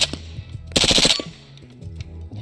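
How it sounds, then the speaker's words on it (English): A semi-automatic rifle fitted with a Super Safety trigger mod emptied in a rapid burst of loud, closely spaced shots, followed by quieter low rumble and faint handling sounds. "Just give it a full-on mag dump."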